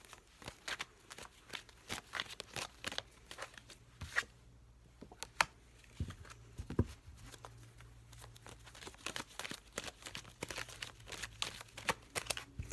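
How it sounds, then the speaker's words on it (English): Tarot cards shuffled and pulled from the deck, a dense run of papery flicks, riffles and slaps, close and fairly quiet, with no talking. "Let's go ahead and pull some more cards out."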